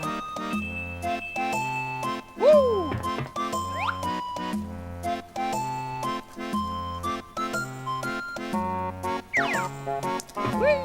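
Bouncy, jingly game music for the ship's kitchen in Banjo Kazooie, with plucked, bell-like notes over a steady bass line, plus a few sliding chirps and swoops from the game, playing continuously and fairly loud.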